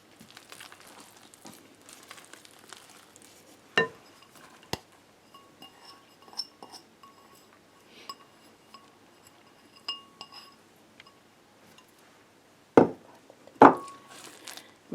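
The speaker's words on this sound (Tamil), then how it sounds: "இப்போ இதுக்கிட்ட நான் கிரேட் பண்ணி வச்சுருக்கிற கேரட்டை போட போகிறேன். எல்லாத்தையும் போட்டு மிக்ஸ் பண்ணுவோம் முடிவா." Grated carrot goes into carrot cake batter in a glass bowl, with sparse clinks and sharp knocks of a utensil against the glass and quiet soft mixing between them, two louder taps near the end.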